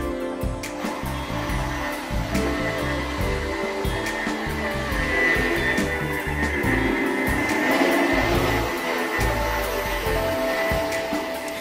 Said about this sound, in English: When you put them together, they behave like one high-performance quadricopter.